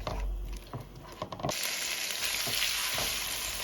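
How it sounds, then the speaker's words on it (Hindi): Mutton with spices and turmeric frying in a pan for yakhni soup, a steady close sizzle with scraping stir sounds and clattering utensil knocks, louder and denser in the second half, no talk. "मैंने इसमें हल्दी और डाली है और अब मैं इसको अच्छे से भून लूंगी"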